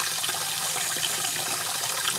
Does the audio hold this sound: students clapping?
no